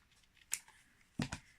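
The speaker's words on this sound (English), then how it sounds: "I'm just going to trim that bit off there" Scissors trimming a misfolded edge of scrapbook paper: three quick, quiet snips nearby, one alone and then a close pair, in an otherwise hushed room.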